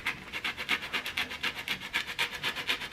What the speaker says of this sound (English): All you'll do is take a grater and start zesting the orange skin.